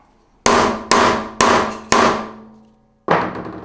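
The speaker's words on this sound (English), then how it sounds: "first test, we're gonna use this absolute demon of a hammer." Halder mallet striking curly Jarrah timber: four sharp, loud clanging blows at an even pace, each ringing briefly, then a pause and a fifth blow, close and alone.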